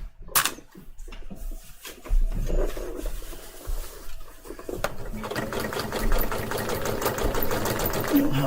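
Home sewing machine stitching a seam, its rapid mechanical whir starting and stopping in short bursts, then running more steadily, with a person talking nearby at times.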